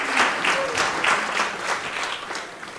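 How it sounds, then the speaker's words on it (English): A comedy special audience applauds in a steady wash of clapping. It begins fairly loud, then slowly thins toward the end, with no talking. "Give him my applause."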